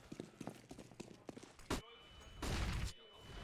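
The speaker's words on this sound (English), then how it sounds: "So many grenades." Grenade blasts in a Counter-Strike match on the Train map: a sharp explosion, then a longer roaring burst a moment later, heard under excited esports commentary.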